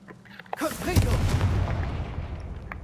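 Confringo fire spell blast in Hogwarts Legacy, a sharp booming burst that hits after a brief voiced cue and rolls out into a loud, crackling fiery tail.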